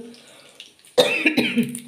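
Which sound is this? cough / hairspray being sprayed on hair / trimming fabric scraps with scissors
cough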